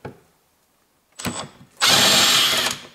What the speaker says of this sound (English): Okay, and now I use my electric driver.